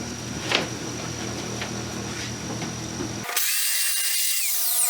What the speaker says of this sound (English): This turned out to be a great sander.